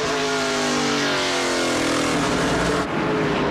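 NASCAR Pinty's Series race cars at the 2017 Total Quartz 200 roar past in a loud, sustained engine drone with shifting pitch, nearby and steady for the whole stretch.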